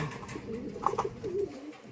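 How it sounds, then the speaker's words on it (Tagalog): Pet pigeons coo softly at close range before feeding, a few low throaty warbling calls over faint background noise. "bigyan muna natin ng mga pagkain tong mga ibon natin"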